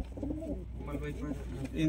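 Malbay racing pigeons cooing softly in a loft, several low, rolling coos overlapping in a steady rhythm at close range, with faint background voices.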